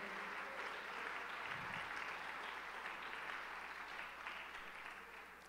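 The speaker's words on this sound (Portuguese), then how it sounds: "Você pode aplaudir o Senhor." A church congregation applauding together, a sustained wash of clapping that holds steady and fades slightly toward the end, with no clear voices over it.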